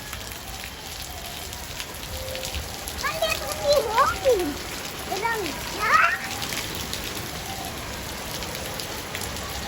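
Steady rain falls outdoors in a broad, even hiss that runs the whole time, while children chatter and call out over it in the middle stretch.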